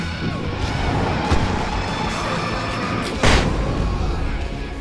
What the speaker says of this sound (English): Sorry about not warning on the flashbang.